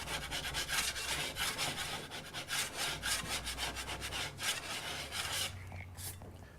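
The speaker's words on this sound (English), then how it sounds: "All I'm going to do now is go over it with my broad knife and remove any high spots." Broad knife scraping over dry plaster patched onto plasterboard, a close, faint series of rough rasping strokes in an uneven rhythm, with no talk.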